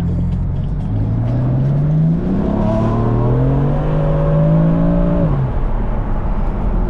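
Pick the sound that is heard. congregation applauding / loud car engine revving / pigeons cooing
loud car engine revving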